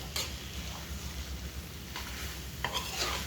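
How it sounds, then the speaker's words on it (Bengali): Chicken pieces sautéed and stirred in a pan for a Bengali chicken dish, a steady low sizzle with a few scraping stirs near the end, close and without talk. "এবার চিকেনগুলো দিয়ে দেব, দিয়ে ভালো করে নাড়তে হবে, কষতে হবে"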